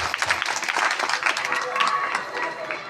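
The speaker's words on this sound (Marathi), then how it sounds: "जोरदार टाळ्या यांच्यासाठी." Loud, dense applause and cheering from the crowd at a Ganesh mandal's Home Minister style Paithani game show, sustained throughout without a break, with voices mixed in.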